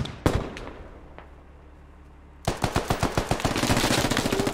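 Full-auto gunfire in the military shooter Squad: after a few isolated shots, a long rapid burst of dozens of sharp cracks rattles in steady rhythm, loud and close, with no talk over it.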